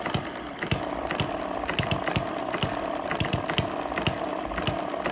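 A small model hit-and-miss engine runs on a mini homemade dynamometer at around 1000 RPM, giving a steady mechanical whir with sharp periodic firing pops at irregular intervals, close and continuous.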